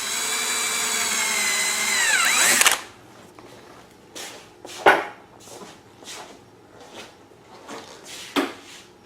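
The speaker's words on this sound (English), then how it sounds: "This is a 1/4 inch drill bit" A power drill with a quarter-inch bit whines at high speed for a few seconds, then cuts out, followed by scattered clicks and handling knocks.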